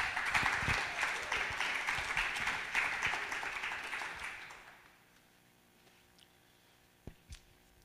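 Applause from the crowd at an SPD candidates' poetry slam in Bochum greets a candidate taking the stage, clapping filling the first few seconds before tapering off into near silence with a couple of late isolated claps.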